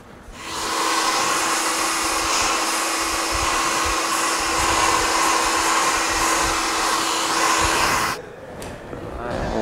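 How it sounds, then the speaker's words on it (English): A hair dryer blasts steadily at close range for about eight seconds while blow drying a client's hair in a barbershop, a loud continuous whooshing roar that cuts off abruptly near the end. "we'll continue blow drying it all the way to the end"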